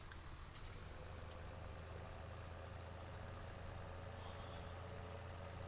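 A farm tractor's diesel engine runs steadily at a low idle-like drone, continuous and fairly quiet throughout with no voices, set in a farming simulator scene.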